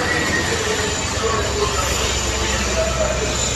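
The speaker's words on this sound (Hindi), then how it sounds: "Railway station." Steady, loud ambience at Visakhapatnam railway station, a continuous broadband rumble and hiss of trains and platform activity filling the whole stretch without pause.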